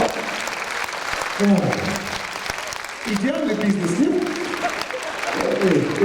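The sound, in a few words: audience applause at a concert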